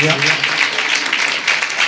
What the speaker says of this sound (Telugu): చప్పట్లు కొట్టి ప్రభువుని కనపడతాం.